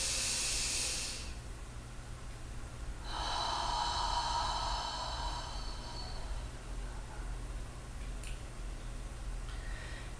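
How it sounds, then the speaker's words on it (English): A slow, deep inhale through the nose during a guided meditation, two soft hissing breaths separated by a pause, close and quiet over a low steady background hum. "Inhale again. One more time. Inhale."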